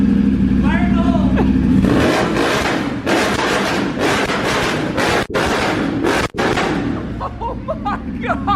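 Custom Ducati Panigale V2 motorcycle on a dyno, firing up and then revving hard in a series of very loud, close bursts with sharp cuts between them, as people talk and shout over it.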